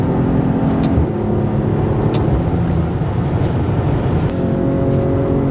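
Maserati Ghibli S Q4 Ribelle Edition driving in sport mode with sport suspension, a steady loud engine drone and road rumble from inside the cabin, with a slight rise in pitch near the end.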